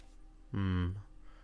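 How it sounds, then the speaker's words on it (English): A cat lets out a single loud, drawn-out meow close by at midnight, with a rising then falling whine that lasts about half a second over a quiet background. "He's just meowing like a lunatic."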